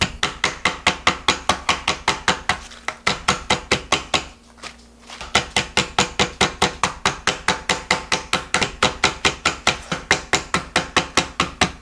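Napa cabbage leaves pounded for cabbage pancakes, a steady run of sharp, evenly spaced thuds, close and loud, with a brief pause around the middle before the rhythmic pounding resumes, no talk.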